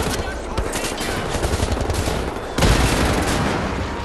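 Rapid automatic gunfire from the first-person shooter Wolfenstein: The New Order, a dense sustained burst of crackling shots with a heavier blast partway through, loud and close.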